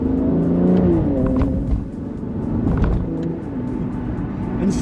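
An Aston Martin Rapide S with a ZF 6-speed gearbox accelerating hard in sport mode, its engine note rising and falling through gear changes, loud and close from inside the car, with no talking.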